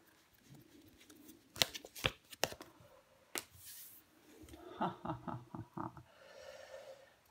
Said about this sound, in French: Je vais recouvrir des cartes. Allez. On recouvre ce 10 d'épée.